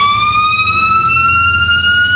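A loud emergency siren wails close by in a city setting, a steady high tone with bright harmonics gliding slowly upward over a low traffic rumble, with no voices.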